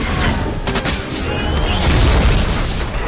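A laser artillery weapon fires in the G.I. Joe: The Rise of Cobra film, giving a loud, close booming blast with crackling bursts that roll into a sustained rumbling roar for about three seconds, with no voices.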